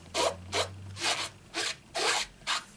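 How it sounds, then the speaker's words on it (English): A cloth rubbed back and forth over rubber stamps, giving six even rasping strokes in steady rhythm, close and fairly loud with no talk. "it cleans my stamps up lovely still"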